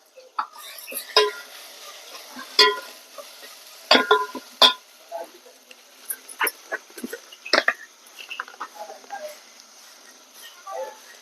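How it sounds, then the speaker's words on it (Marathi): Spice masala being roasted in a pan for a goat mutton curry, heard as scattered clinks and scrapes of a utensil against the pan, with intermittent taps over a faint background. "आता मसाला भाजून घ्यायचा"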